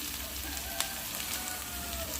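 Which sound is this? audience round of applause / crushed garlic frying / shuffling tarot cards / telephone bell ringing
crushed garlic frying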